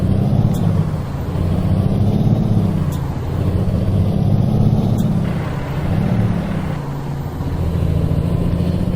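Truck engine in American Truck Simulator, a loud steady low rumble and drone that rises and falls gently as it drives, with no voices over it.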